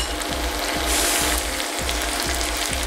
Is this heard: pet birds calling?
no